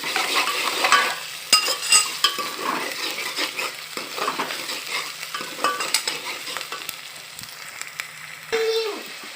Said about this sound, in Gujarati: આદુ મરચાં લસણની પેસ્ટ બનાવેલી છે ચેપીને એ નાખી દીધી છે। હવે એને થોડી વાર માટે આપણે પકવશું।